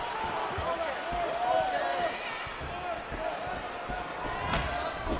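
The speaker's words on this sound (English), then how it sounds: "Ooh, what a punch." Punches and kicks land in a UFC 4 fight on PS5, heard as dull thuds over a steady crowd roar, with a commentator talking throughout.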